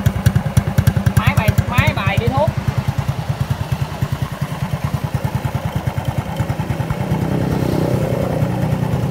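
A modified Honda Dream motorcycle with a tuned engine, 54 mm piston and fully machined parts runs close by, a fast, steady chugging idle with evenly spaced pulses that swells slightly louder near the end.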